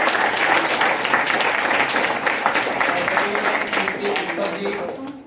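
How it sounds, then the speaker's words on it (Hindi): Audience at a Hindi stage drama presentation applauds the production crew, a steady, fairly loud stretch of clapping with crowd murmur mixed in throughout. "उनके लिए भी तालियां बजाते हैं"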